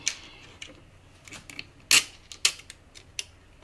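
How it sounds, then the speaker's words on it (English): Zinc-plated screws being driven into a case, heard as a few sparse, sharp metallic clicks and ticks spread over a few seconds, fairly quiet with no talking. "So let's get some screws in."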